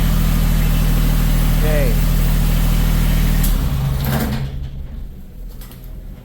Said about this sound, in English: We're gonna let that skid steer warm up a little bit more here